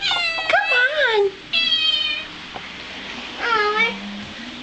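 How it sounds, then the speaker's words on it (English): Several meows from a pet cat indoors, rising and falling cries in three bursts, close and fairly loud, with a person talking softly between them. "isn't it cute when she says meow?"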